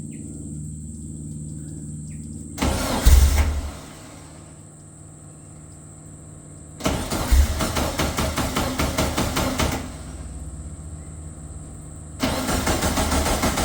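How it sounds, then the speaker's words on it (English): A VW Beetle engine cranks three times in long grinding bursts without catching, loud and close, with quiet pauses and faint insect chirps between attempts. "there's not much else to do but twist on the key and hope she fires"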